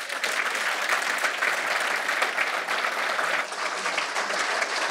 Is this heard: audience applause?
yes